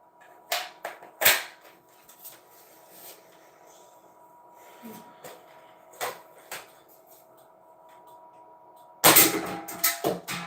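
Sniper rifle shots in a video game, a few sharp cracks spaced apart over quiet background, then a louder cluster of bangs near the end; a voice talks between them.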